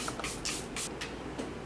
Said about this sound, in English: Now I'm just gonna spray this Airbrush Flawless Setting Spray.